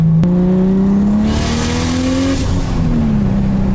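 A BMW F80 M3 accelerates hard, its engine note climbing loud and close before short quick upshifts drop the revs and it pulls again.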